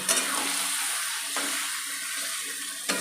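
Chicken gizzard and liver masala with Kashmiri chilli powder fries in a pan, a continuous close hissing sizzle with a couple of brief stirring knocks, no one speaking.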